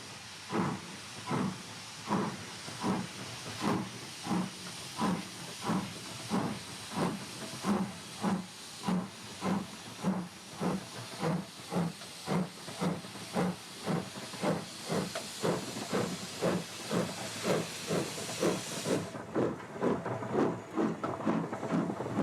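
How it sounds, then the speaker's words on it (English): A restored LMS Jubilee Class 10-wheeler steam locomotive on the Keighley & Worth Valley Railway, chuffing in a steady, even rhythm of loud, close steam exhausts that picks up slightly toward the end. "This superbly restored Jubilee Class 10-wheeler was one of a class of 191 locomotives designed for the LMS by Sir William Stanier."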